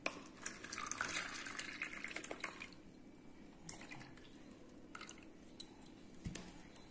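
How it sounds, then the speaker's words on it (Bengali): Homemade kulfi mixture poured into moulds, with soft dripping and liquid trickles, scattered splashes and faint clinks close by, quieter toward the end. "এবার এটাতে এই দেখুন ঢেলে দিচ্ছি।"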